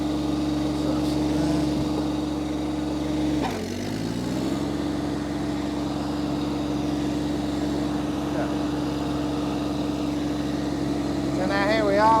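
An Iseki TXGS24 tractor fitted with a mulching deck and front end loader starts moving, its steady engine drone holding close and constant after a brief dip in pitch. Someone talks over it.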